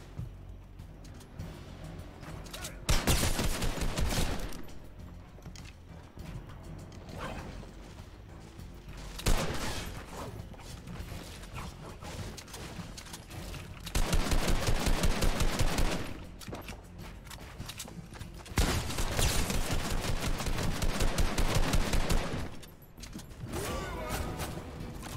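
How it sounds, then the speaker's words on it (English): Gunfire from a henchman in the Fortnite video game comes in several long automatic bursts with rattling shots and quieter gaps between them, mixed with mechanical game sounds and no speech. "Dude, is that henchman still shooting at me?"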